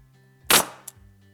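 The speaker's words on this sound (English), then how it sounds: "I whipped out the 15 gauge nailer and attached the center shelf all around" A 15 gauge pneumatic nailer fires once with a sharp, loud pop and air hiss, followed by a short metallic click, close up in a workshop.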